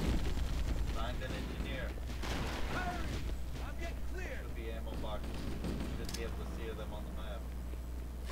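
Heavy tank cannon blasts and explosions in Halo 3 combat, loud booming shots over a constant low rumble, with voices talking throughout.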